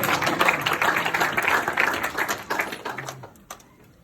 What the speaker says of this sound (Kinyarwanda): Tuyikomera amashyi akomeye Imana